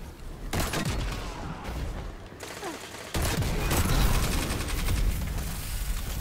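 Gunfire in a Destiny 2 Crucible Control match: rapid repeated shots and bursts, close and loud, continuing throughout with a brief gap before a heavier volley.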